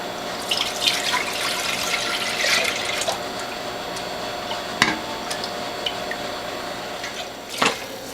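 Homemade pumpkin carrot juice with beets, ginger and garlic is ladled into a Pyrex bowl, a continuous close pouring and splashing of liquid with a few sharp clinks of the ladle against glass.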